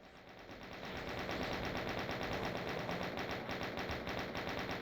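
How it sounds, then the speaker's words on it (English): Chain gun firing in the Doom video game, a dense, rapid stream of shots that swells in and holds steady as one unbroken burst, with no voices. "equip our chain gun"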